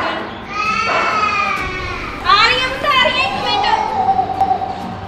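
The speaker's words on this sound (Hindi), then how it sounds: "बंद कमरे विच्चों बच्चे दे रोण दियां आवाज़ां" A young nursery-age child cries and wails from inside a locked classroom, the sobbing rising and falling over several seconds amid muffled background commotion.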